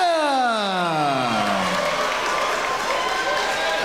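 A crowd at a women's fight event roars and applauds after the decision is announced. The announcer's voice stretches out a name over the dense, steady clapping and cheering, which then carries on alone.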